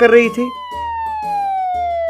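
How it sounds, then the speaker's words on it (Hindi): A police jeep siren in a Hindi cartoon comedy sounds after a brief spoken phrase. It is a single loud electronic wail that glides steadily downward in pitch over a low pulsing hum. "सायरन बजाते हुए एक पुलिस जीप उस कार का पीछा"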